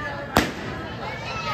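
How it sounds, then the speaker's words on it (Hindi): A single sky shot firework bursts at a Dussehra Ravan dahan celebration, one sharp loud crack that fades quickly into steady outdoor crowd ambience. "और स्काई शॉट भी फोड़े थे"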